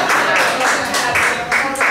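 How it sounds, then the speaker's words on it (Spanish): Applause breaks out for a young poet named Lucy at a slam poetry jam session, a dense, steady wash of many hands clapping from a live audience, loud and continuous throughout. "Un aplauso para Lucy."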